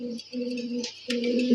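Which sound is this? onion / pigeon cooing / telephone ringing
pigeon cooing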